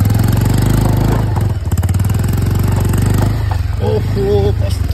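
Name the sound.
motorcycle stuck on the road, engine running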